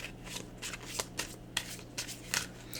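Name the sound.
shuffling a deck of cards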